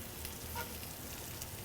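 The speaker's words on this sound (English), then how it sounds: "looks like we are still sizzling" Oxtail browns in an outdoor cast iron pan with a faint, steady sizzle and an occasional small crackle or scrape. No one speaks.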